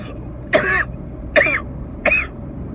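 Three short, harsh coughing and choking bursts spaced about a second apart, close and fairly loud, with hoarse, strained throat sounds and a low background hum.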